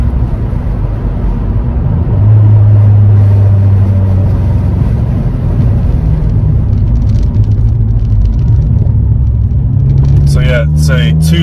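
A 2005 Ford Fiesta ST with a 2-litre naturally aspirated four-cylinder cruising on the motorway: a steady low engine drone and road rumble heard from inside the cabin, with someone talking over it throughout.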